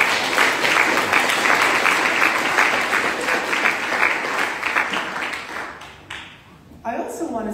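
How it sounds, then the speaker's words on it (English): An audience claps for school leaders at a STEM teaching awards ceremony, sustained dense applause that thins and fades out toward the end. "Applause for our school leaders."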